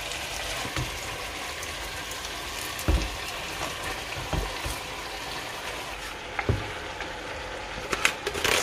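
Cabbage frying in hot oil gives a steady soft sizzle and crackle, with a few louder pops and clatters scattered through, close and with no talking.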